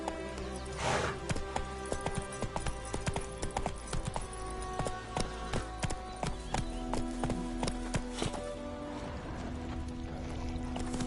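A horse gallops in The Witcher 3: Wild Hunt, with a continuous rapid clip-clop of hooves throughout under a layered game soundscape.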